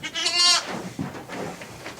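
A single ewe bleats close by on a Norwegian sheep farm during lambing season, a loud wavering cry, followed by quieter farm-shed noises.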